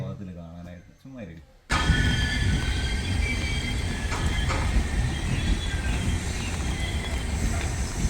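After a brief burst of talking, a loud train rumble and rattle kicks in abruptly and continues steadily, close by, with faint squeals and clanks.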